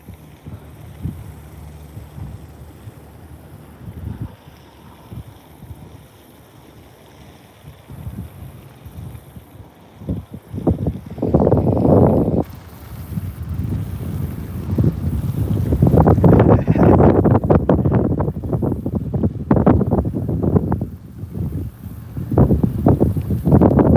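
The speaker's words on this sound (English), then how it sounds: "it's a little bit windier than normal today" Wind gusting over a fishing boat on an Oklahoma lake, a constant rumbling buffet against the microphone that swells stronger and more blustery in the second half.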